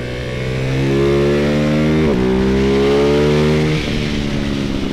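Ducati Hypermotard 698 Mono single-cylinder with Termignoni exhaust accelerates loudly nearby, its note rising, snapping briefly through quickshifter gear changes, then climbing again before easing off.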